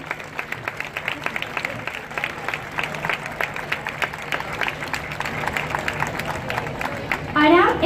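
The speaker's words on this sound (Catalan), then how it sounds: "Demanem un fort aplaudiment per a ells" Outdoor audience applause at a pageant preselection event in a garden, steady scattered clapping from a crowd at moderate distance, with a brief louder burst near the end.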